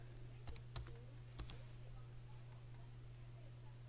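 Sparse keystrokes on a computer keyboard tap in small bursts near the start, then fade out. A steady low electrical hum sits beneath them and the whole scene stays quiet.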